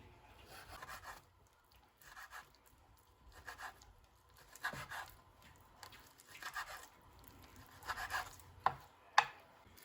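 A knife slices pork into thin strips for sausage on a cutting board, giving faint, repeated soft scraping and chopping strokes in an uneven rhythm, with a couple of sharper taps near the end.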